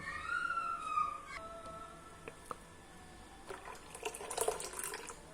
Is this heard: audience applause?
no